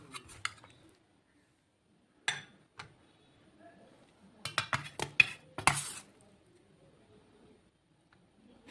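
Cauliflower curry with large florets is spooned onto a plate, giving a few scattered clinks and scrapes of a utensil against dishware, in short bursts separated by quiet pauses.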